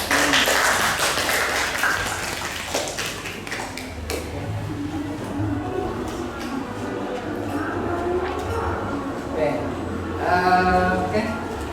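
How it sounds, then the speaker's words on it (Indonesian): A classroom of students claps for one presenting group: dense, steady applause running for several seconds, with voices and chatter mixed through it. "kita beri tepuk tangan untuk kelompok ini."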